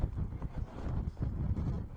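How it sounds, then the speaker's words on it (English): Strong gusty wind buffets the microphone at an outdoor sailing race, a dense low rumble that surges and dips in quick gusts throughout, with no clear voices. "Yeah, that wind is strong. Gusts."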